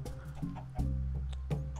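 Chickens in Minecraft clucking quietly, a few short separate cluck sounds spaced apart over a low steady background.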